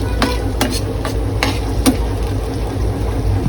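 Two vegetables and potatoes fry in plenty of oil in a kadhai, a steady close sizzle broken by the scrape and clack of a spoon stirring a few times.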